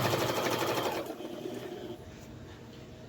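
Sewing machine stitching a baby blanket, a fast buzzing whir of stitches for about a second before it stops, leaving quieter indoor room noise.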